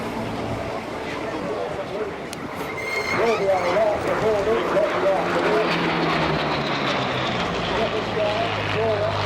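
A Hawker Hurricane's piston engine rumbles at the Dunsfold Wings & Wheels 2014 airshow, a droning throb that grows slightly louder partway through, with voices and crowd noise mixed in.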